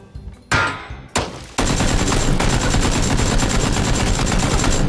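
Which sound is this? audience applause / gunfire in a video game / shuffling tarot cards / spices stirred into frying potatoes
gunfire in a video game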